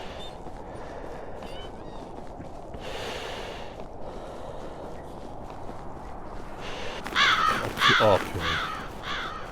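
A bird in the VR game The Descend lets out a few harsh caws late in the scene, loud and close against a steady ambient bed, with a man's brief exclamation nearby.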